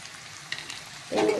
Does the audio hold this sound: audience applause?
no